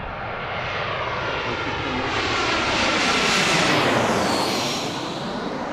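A JetBlue Airbus A320 airliner arriving to land at Washington's DCA, heard from Gravelly Point as a broad jet roar that swells to a loud peak overhead and then begins to fade.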